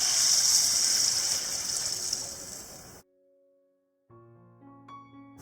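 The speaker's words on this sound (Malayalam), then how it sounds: "ഇതിനോടൊപ്പം 1/2 കപ്പ് വെള്ളം ചേർക്കാം." Half a cup of water poured into a pan of salted potatoes cooking for a mixed vegetable curry, a close, steady gushing splash for about three seconds, then quiet followed by faint ringing kitchen clinks.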